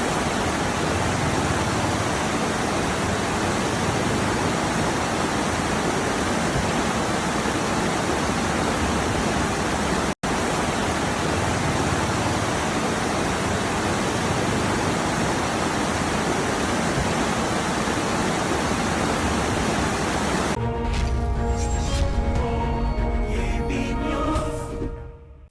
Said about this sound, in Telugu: ములుగు జిల్లాలోని బోగత జలపాతం ఉగ్రరూపం దాల్చింది